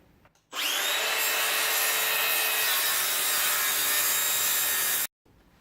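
A 45-degree mitre cut in wood is made with a jig, a loud continuous whining cut that starts abruptly, holds steady for about four and a half seconds, then stops sharply, up close without talk.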